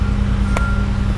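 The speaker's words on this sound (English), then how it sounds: "Don't mind, there's a trash truck" A garbage truck's reversing beeper sounds one loud, sharp beep over a steady low diesel engine rumble, close by.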